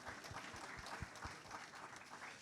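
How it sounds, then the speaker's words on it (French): Audience applause at a morning session on AI research and innovation, dense continuous clapping from a crowd, faint and even throughout. "Donc déjà on peut les applaudir, oui."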